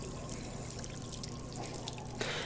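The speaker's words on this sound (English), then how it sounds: "Now, you fill it with nice water." Water pours into a container in a Job Simulator kitchen scene, a continuous splashing trickle that runs steadily for a couple of seconds and then brightens into a louder hiss at the end.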